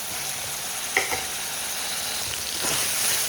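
Vegetables are sautéed in a pan for a karunai kizhangu kuzhambu, a steady close sizzle with soft stirring scrapes and a faint clink, and no voices.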